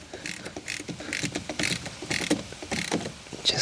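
The adjustment screw on a uPVC patio door hinge is tightened in a short burst of close, irregular clicks and scraping mechanical ticks, with no voices.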